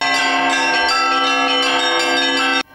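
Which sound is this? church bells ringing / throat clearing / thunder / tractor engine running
church bells ringing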